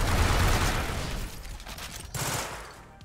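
Tokko Fusion SMG firing in Synthetik 2: a loud, continuous stream of rapid shots that eases slightly midway, then a second burst picks up near the end. No one speaks.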